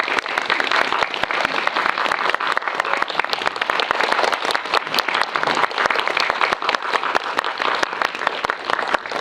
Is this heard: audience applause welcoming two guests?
yes